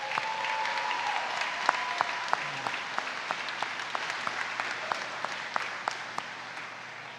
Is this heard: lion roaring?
no